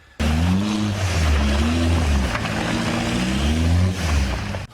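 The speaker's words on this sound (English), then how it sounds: "People do not think that a Volkswagen TDI makes the kind of power that you would need." A Jeep with a swapped Volkswagen TDI diesel engine and big injectors revs hard up close. The loud, gruff engine roar rises and falls through several throttle blips in one continuous burst.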